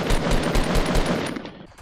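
Rapid automatic gunfire in the video game Fortnite during shooting practice, a loud continuous burst of closely spaced shots that tapers off at the end.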